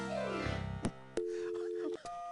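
Telephone ringing in the You Don't Know Jack video game, heard as steady electronic tones that jump between pitches across a couple of seconds, fairly close and alone with no talk.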